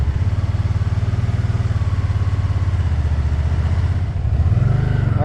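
A Can-Am Spyder three-wheeled motorcycle with a manual gearbox, ridden up close, its engine throbbing loudly and steadily before the pitch rises as it pulls away, with no voices.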